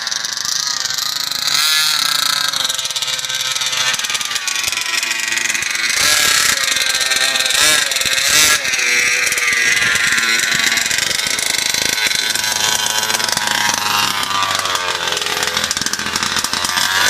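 A fifth-scale RC petrol engine running during break-in: a loud, continuous buzzing two-stroke drone close by, with its pitch rising and falling slightly as the revs change.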